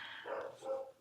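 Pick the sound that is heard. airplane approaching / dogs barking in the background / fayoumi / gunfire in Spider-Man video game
dogs barking in the background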